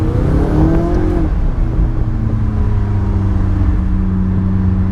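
A McLaren 570S engine revs loudly and close, with rising pitch in the first second before settling into a steady, strong drone that holds to the end.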